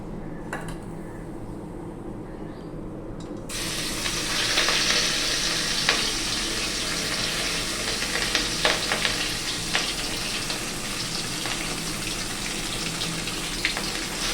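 Fish frying in hot oil in a home kitchen for Bengali fish tel chorchori: after a quieter start, a loud continuous sizzle and crackle breaks out, with scattered pops and spatters running steadily to the end.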